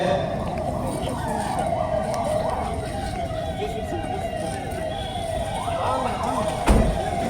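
Fire engine siren sounding as the brigade arrives at a Davangere civil defence mock drill, a loud, steady wail held continuously with slight rises and falls, backed by engine and crowd noise and a brief thump near the end.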